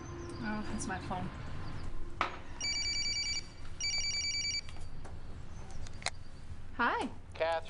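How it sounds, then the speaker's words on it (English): A mobile phone rings in two short bursts of bright, rapid trilling tones, moderately close, amid quiet room sounds and brief bits of talk. "Oh, that's my phone."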